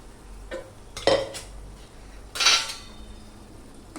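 A spoon scraping and clinking against a pan while pav bhaji vegetables are mixed into the gravy, with a few scattered close knocks and a brief louder scrape, otherwise quiet.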